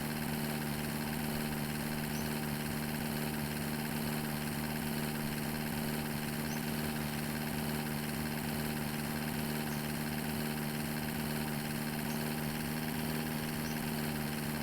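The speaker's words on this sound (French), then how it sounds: "On va le pousser le moteur, on va le pousser." A car engine idles steadily in The Long Drive driving game, a constant droning hum with even vibration, moderately loud and unbroken, with no voices.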